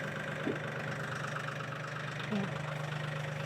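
A Mahindra 1635 Shuttle 4WD tractor engine runs quietly with a little throttle, a steady low idle-like hum with two brief bumps, heard from a distance with no talking.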